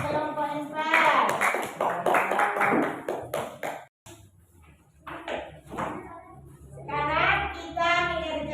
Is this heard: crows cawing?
no